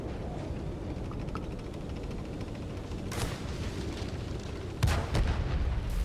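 Artillery fire in World of Tanks on PS5, two heavy booming blasts several seconds apart over a constant rumbling background of engine and battle noise.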